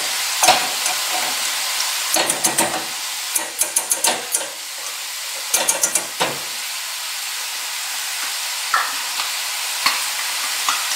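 Flour and butter being whisked together in a pan for a roux, with a steady frying hiss underneath and a scattering of sharp metallic scrapes and taps, some in quick clusters, close by.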